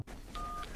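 A single touch-tone telephone keypad tone sounds as a number is dialed in the English dub of the anime Ghost Stories. It is short and steady, lasting about a third of a second over a low background hiss.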